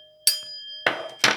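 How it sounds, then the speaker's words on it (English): A small handbell rung at a tarot card reading, with a bright ringing strike followed by two more louder, noisier clangs a moment later, standing alone without talk. "They asked me to ring my bell."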